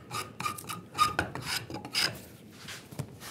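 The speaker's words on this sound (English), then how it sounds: "So I'm making a round over with my spoke shave." A spokeshave rounds over the edge of a wooden spatula in a series of short, rasping cutting strokes, close and fairly quiet, with irregular rhythm and brief pauses between passes.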